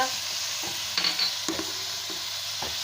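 Tomatoes frying in a pan with whole garam masala and roasted cumin, a soft constant sizzle with occasional louder scrapes and clinks of a spoon.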